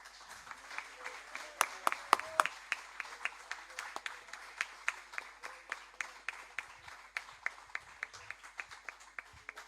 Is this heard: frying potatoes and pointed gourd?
no